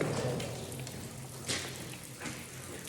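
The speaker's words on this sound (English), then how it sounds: "Is that like a stream of water out of the wall?" Water streams out of the wall of a decommissioned railway tunnel, a steady close wash of splashing and trickling with a few sharper surges, the floor wet underfoot.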